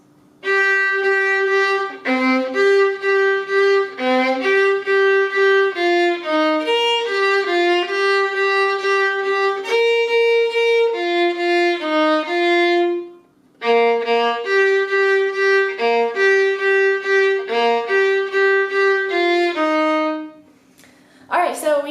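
Solo violin plays the melody of a song as an easy tutorial arrangement, a steady string of clear bowed notes with repeated pitches, alone and near, with a brief pause midway.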